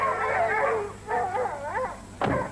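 Search dogs whine and whimper up close in a film scene, a few drawn-out wavering whines ending with a short sharp yelp, with no talking over them.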